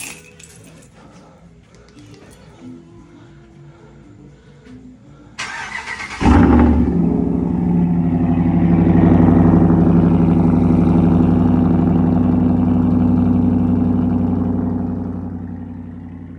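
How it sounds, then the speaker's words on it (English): Ram Rebel pickup with a Borla Attack exhaust: keys and faint handling noises come first, then the engine fires up with a loud burst and settles into a deep, rumbling idle that swells and slowly fades. "that's the Borla Attack for the Ram Rebel"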